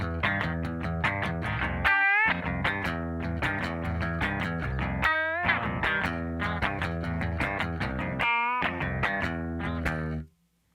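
Clean electric guitar run through a ring modulator plays a riff, metallic bell-like tones with bending, warbling pitches, loud and continuous for about ten seconds before stopping abruptly.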